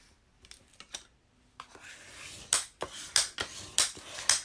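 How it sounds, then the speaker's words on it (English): A sheet of navy cardstock, 8.5 by 5.5 inches, is folded in half for a handmade Christmas card, giving a series of sharp paper creasing and scraping swipes, close and fairly loud, with no talk. "We're going to fold it in half."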